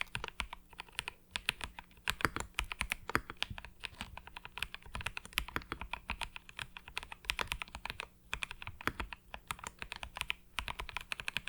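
Rapid, uneven typing on a computer keyboard, close and crisp, with dense clusters of clicky keystrokes and brief pauses. No voice is heard.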